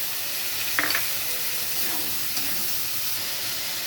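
A little water splashed onto ground spices frying in a pan for a banana-flower and prawn dish, a steady steamy hiss with a brief crackle and a few light stirring scrapes, close and without speech.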